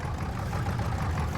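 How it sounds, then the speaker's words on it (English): A tractor engine idles in Farming Simulator 22, a steady low rumbling drone that holds at an even level throughout the short stretch, with no talking over it. "Oh, my tractor is rolling away."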